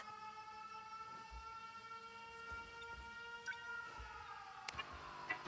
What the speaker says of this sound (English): Air raid alarms.